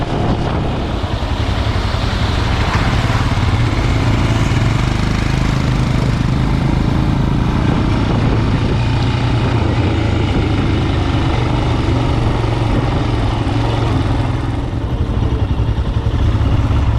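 Royal Enfield Himalayan Scram 411 motorcycle at the end of a ride near a beach, its engine a steady low rumble mixed with heavy wind buffeting throughout, loud and continuous with no talk.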